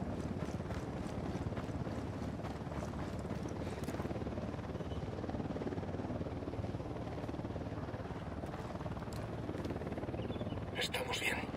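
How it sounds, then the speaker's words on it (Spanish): Helicopter landing in Tom Clancy's Ghost Recon, a continuous dense rotor and engine roar with wind-like noise throughout, steady and close, a voice speaking over it. "Helicóptero al suelo."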